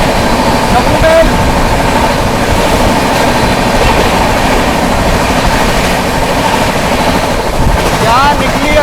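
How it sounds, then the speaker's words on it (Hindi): The Jammu Mail crosses close by, heard from a moving express train: a loud, continuous roar of rumbling wheels and clattering rail joints that lasts the whole stretch. "जम्मू मेल, वो आ रही है, उसकी क्रॉसिंग दिखाते हैं।"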